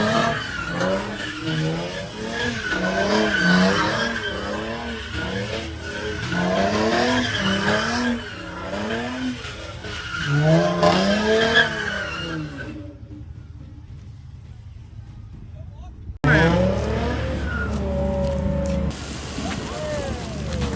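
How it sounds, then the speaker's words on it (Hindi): A Toyota Mark X drifting, its tires squealing in repeated sweeping bursts with engine revs rising and falling. A sudden quiet gap near the end, then the noise resumes abruptly. "ड्रिफ्टिंग हो रही है"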